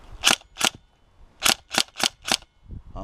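Tokyo Marui Recoil Shock M4 airsoft rifle fired in single shots: six sharp, loud cracks in an uneven rhythm, each with a snappy mechanical recoil clack, then a short rustle at the end.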